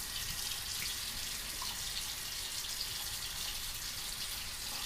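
Running water from a tap or sink rinses and washes skin before surgery, a steady broadband hiss that stays constant and moderately quiet with no voices.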